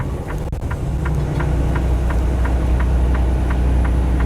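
A heavy truck loaded to 75,000 pounds descends the 6% Grapevine downgrade at about 27 mph and 1700 RPM, its engine a loud, steady low drone with a faint regular ticking running through it, no voices.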